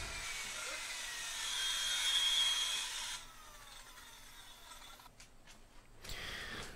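A miter saw cuts through 2x3 lumber for a dance pad frame, a loud sustained whine and rasp for about three seconds that fades out, followed by quieter clatter and shuffling.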